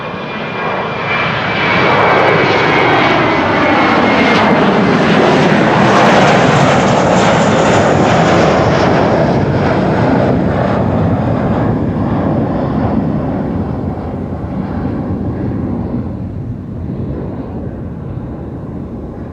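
Finnair Airbus A321 at Amsterdam Schiphol, a loud, close jet engine roar that rises quickly, holds strong for several seconds as it passes, then slowly fades away, with no talking.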